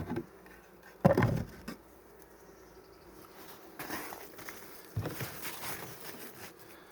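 Soft bee buzzing drifts through a quiet outdoor apiary in September, with a few brief louder bumps and rustles nearby as hive frames are handled.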